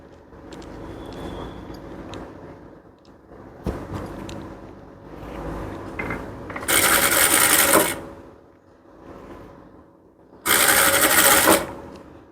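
A sewing machine stitching a blouse runs in two loud, close bursts of rapid whirring, with quieter handling and fabric rustle between them.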